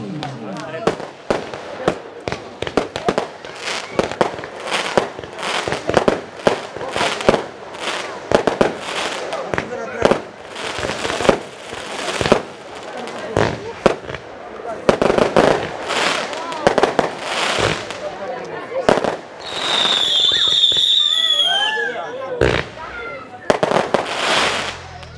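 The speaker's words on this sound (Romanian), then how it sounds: "Au început artificiile cineva să vină să le vadă." Outdoor party fireworks and firecrackers explode in rapid, dense volleys of sharp loud cracks and bangs, with whistling rockets near the end, while people talk and shout underneath.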